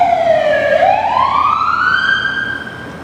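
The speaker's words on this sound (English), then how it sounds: "Let's wait for the siren to go by." An emergency vehicle siren wails past outdoors, one loud sweeping tone that falls and then rises again before fading slightly as the vehicle moves away.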